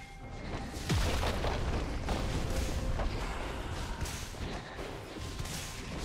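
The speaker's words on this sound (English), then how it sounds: "Red team's turret has been destroyed." A turret is destroyed in League of Legends, producing a deep booming explosion that hits sharply near the one-second mark and rolls on as a dense, sustained rumble with game effects layered over it.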